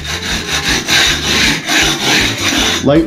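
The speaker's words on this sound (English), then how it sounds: "scrape it down, and we're going to get a nice level surface, you know, get rid of some of this crap here, make it nice and smooth." A tool scrapes across a shower pan mortar bed to smooth it, a close, gritty rasping in repeated strokes with no talk.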